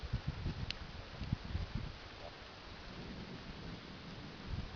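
Distant thunder rumbles low and steady through an April thunderstorm in Cambridge City, Indiana, with soft rain patter and scattered bumps of drops close by, no voices.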